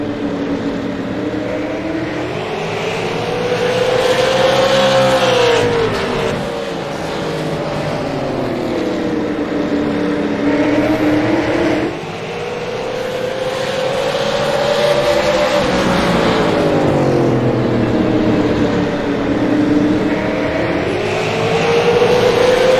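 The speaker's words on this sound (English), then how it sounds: "11 laps of green flag racing here at All-American Racing League" Race cars roar around the Irwindale speedway oval during green-flag racing, engines rising and falling in long sweeping passes, loud and continuous with overlapping motors.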